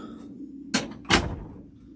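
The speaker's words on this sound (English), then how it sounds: "Let me actually close the door here quick so we don't have the background." A door being shut indoors, heard as two quick, fairly close knocks or thuds less than half a second apart against a quiet room background, with no talking.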